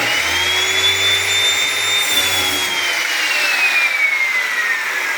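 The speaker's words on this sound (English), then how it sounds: "So I can do a little plunge cut here and make sure I'm just right before I continue on." A circular saw making a plunge cut for a dado in wood, a loud, steady high-pitched whine that holds and slowly drops in pitch as the blade winds down, close with no talking.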